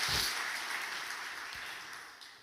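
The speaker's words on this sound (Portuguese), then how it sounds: "Você pode aplaudir a palavra de Deus" A church congregation applauding during a sermon, a faint, smooth wash of many hands clapping at a distance, fading gradually over a couple of seconds with no clear individual claps.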